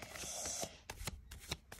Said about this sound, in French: Je vais commencer cette guidance par en tirant 3 cartes